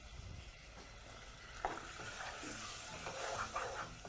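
A chicken biryani mixture with added water and cooking cream is stirred in a hot pot, producing a continuous sizzle with wet scraping and bubbling that grows busier partway through.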